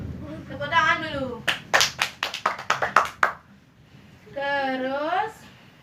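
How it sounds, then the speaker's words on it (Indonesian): A classroom of children in an Indonesian school claps hands in a quick burst of about ten rhythmic, sharp claps, close and fairly loud, with voices speaking just before and after. "Tepuk tangan dulu."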